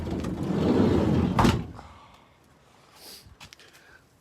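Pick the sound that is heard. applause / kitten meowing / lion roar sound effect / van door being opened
van door being opened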